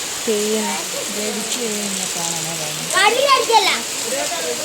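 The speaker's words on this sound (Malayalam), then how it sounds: "നല്ല മഴയാണ് മഴ നന്നായിട്ട്" Steady heavy rain hisses throughout at the Kottiyoor Vaishakha temple festival in Kerala while people talk over it, including a voice.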